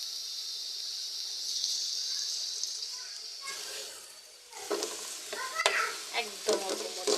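Onions and chilies are dry-fried in a pan with only a little oil, starting as a thin hiss and then turning into louder crackling sizzle with spatula scrapes and stirring clatter up close.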